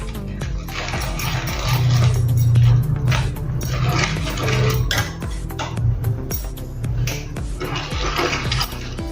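A spoon stirs khatti mithi chutney with amchur and red chilli powder in a bowl, giving repeated scraping and clinking against the sides at close range.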